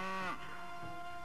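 A cow moos in a story scene, one sustained low lowing call that dips in pitch partway through, set against a soft musical background.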